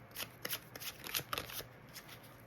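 A deck of tarot cards being shuffled by hand, a quick close run of crisp riffling flutters and taps.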